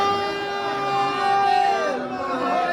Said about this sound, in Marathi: आता तर भरपूरच गर्दी आहे.